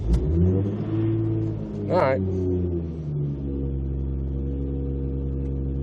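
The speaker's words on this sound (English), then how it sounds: "See, the car starts up. It's been a minute since I've messed with a cold start." Toyota MK4 Supra fitted with an 8-speed ISF transmission starts on a cold morning, the engine catching with a rev and settling into a loud, steady idle as someone speaks briefly.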